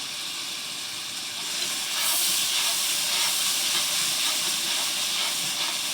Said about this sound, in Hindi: देखो मसाला कैसे भूंज रहा है